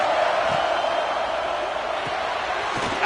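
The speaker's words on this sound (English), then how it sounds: "This crowd ready to make its presence known." A dense, continuous roar from a football stadium crowd, loud and steady for the whole stretch, with a few faint thumps showing through the wash of noise.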